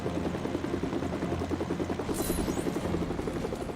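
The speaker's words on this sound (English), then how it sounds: "It's a helicopter made of sand." A sand-built helicopter in a Lego video game gives off a loud, continuous rotor chop with rapid even beats throughout, and a brief high twinkling effect chimes in midway.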